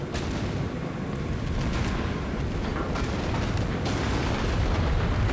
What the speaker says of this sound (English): Put out another broadside.